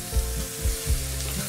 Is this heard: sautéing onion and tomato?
yes